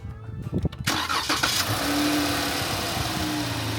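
A used car with more than 200 horsepower starts up with a short cranking burst, then settles into a steady, loud engine idle that runs up close to the end.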